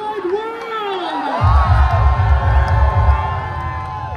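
A big Tomorrowland crowd at Ushuaia Ibiza breaks into loud, sustained roaring and whooping about a second and a half in, and the cheering carries on while an amplified voice talks over it.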